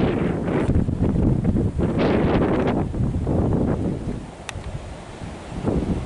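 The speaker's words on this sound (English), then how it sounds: "Today is really windy." Strong wind gusts roar against the microphone outdoors at a beekeeping site, swelling and easing in waves with a rustling hiss, no voices present.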